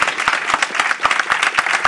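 A comedy show audience gives warm, even applause, a close and loud patter of many hands with rhythmic clap accents running through the whole moment.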